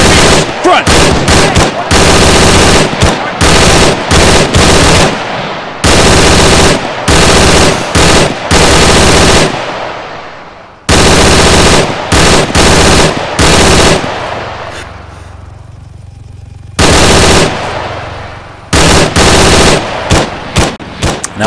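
Machine gun fire in the Arma 3 video game comes in loud, long automatic bursts separated by brief gaps, with one longer pause and a fainter tail before the firing resumes.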